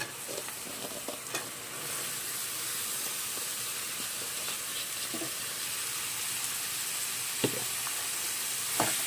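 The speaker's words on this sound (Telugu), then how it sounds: "ఉల్లిపాయలు అయితే మగ్గినాయి, బీరకాయ ముక్కలు వేసుకుందాం" Ridge gourd pieces frying with onions in a pan give a steady soft sizzle and hiss, broken by occasional light scrapes and taps of the stirring spoon, moderately quiet and without voices.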